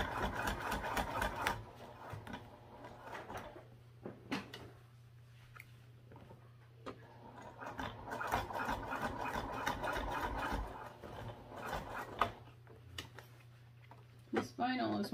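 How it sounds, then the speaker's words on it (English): A sewing machine top stitching shiny vinyl with a longer stitch length, running in short bursts of rapid mechanical stitching separated by pauses, close and fairly quiet, with a steady hum underneath and a person talking at times. "I'm going to top stitch at 1/8 of an inch."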